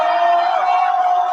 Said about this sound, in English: Some people seem to be applauding the fight.